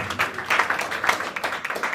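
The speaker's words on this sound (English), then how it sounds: "Can we just give a round of applause to the chairperson?" A small live audience at an association launch event claps for the chairperson, giving a brief patter of applause of moderate loudness from nearby.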